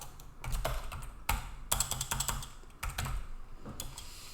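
C code typed on a computer keyboard: irregular bursts of close, crisp key clicks with short pauses between runs, no voices.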